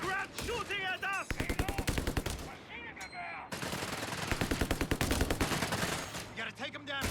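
A machine gun rattles in long rapid bursts in the strategy game Company of Heroes 3, loud steady rat-a-tat volleys with a brief gap between them, alongside other battlefield shots.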